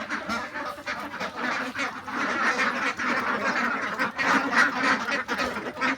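Healthy, vaccinated ducks on a duck farm in Kumaruli, Ishwarganj, Mymensingh quack in a busy, overlapping chorus, many nearby birds calling continuously in uneven bursts at moderate loudness.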